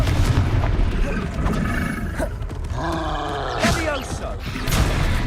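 A Confringo fire spell exploding in the Hogwarts Legacy video game, loud booming blasts and roaring bursts over a dense game soundscape.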